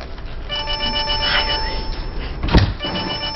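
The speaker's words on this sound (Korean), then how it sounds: "형님 전화 왔어요." A phone ringtone chimes in a repeating electronic pattern over background rumble, with a sharp thump partway through.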